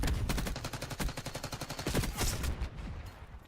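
Rapid automatic gunfire from a Call of Duty esports match between Air Force base teams, with dense overlapping bursts of shots that fade toward the end.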